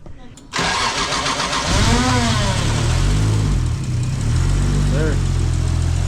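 A Toyota 2JZ engine swapped into a Nissan S13 cranks and fires on its first start, then settles into a loud, rumbling idle with a couple of rev blips, close by, while people talk over it.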